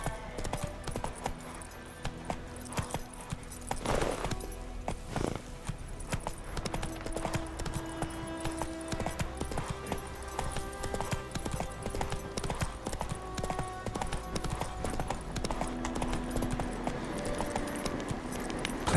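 Horse hooves clip-clop in a steady trotting rhythm within a video game, mixed with jangling tack and game sounds, fairly close and continuous, with no talking.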